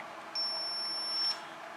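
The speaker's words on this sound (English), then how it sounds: "we get a beep that it's high, and if I go to ground, we get a beep that it's low" A logic probe set to CMOS mode gives one steady, clear electronic beep of about a second, touched to the positive supply rail, over a faint background hiss.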